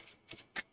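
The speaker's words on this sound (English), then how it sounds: "Shuffle them again." A small deck of tarot cards being shuffled by hand, close and quiet: a soft riffle followed by two quick papery flutters, with no talk.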